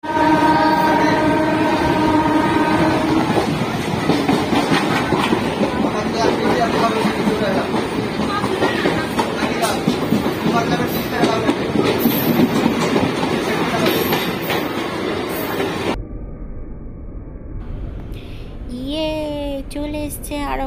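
Inside a moving passenger train between Ranaghat and Aranghata in West Bengal: loud, continuous rumble and rattle of the carriage with clicking wheels, then a sudden drop to quieter cabin sound with voices talking.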